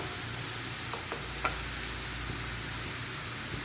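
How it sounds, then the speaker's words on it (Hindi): Onions shallow frying in cooking oil in a pan, a steady, quiet hiss of sizzling with a few faint clicks of stirring, no voices. "प्याज के अंदर मैंने ऑयल डाल दिया है, कुकिंग ऑयल। अच्छे तरीके से थोड़ा सा शैलो फ्राई करते हैं इसको,"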